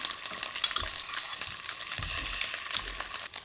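Beaten egg mixture frying in a lightly oiled pan, a steady close sizzle and crackle running throughout with no voices.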